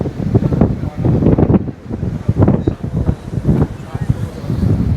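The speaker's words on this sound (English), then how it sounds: "Still actually quite windy down here, to be fair." Gusty sea wind at a beach in Torrevieja, with sea spray blowing up, buffets the microphone in loud, uneven rumbles, with a voice partly audible beneath the roar.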